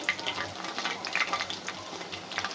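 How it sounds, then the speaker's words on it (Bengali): Lentil-filled pastries fry gently in oil over low heat, giving a soft, steady crackle and light sizzle with scattered pops, fairly quiet and close. "আমি অল্প জালে ভেজে নিচ্ছি"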